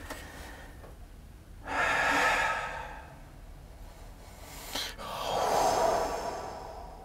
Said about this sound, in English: I was breathing.